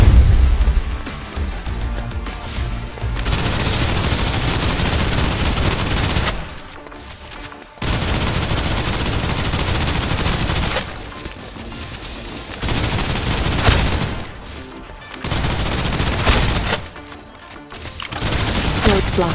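Sustained bursts of automatic gunfire from the Snowbreak Containment Zone video game, loud and dense. Heavy volleys roll on with short lulls between them, mixed with in-game effects.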